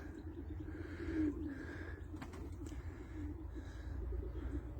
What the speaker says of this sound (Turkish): Bunlar ayrı bir soy yaratmak için yeni tahta kümese ayırdığımız kuşlar.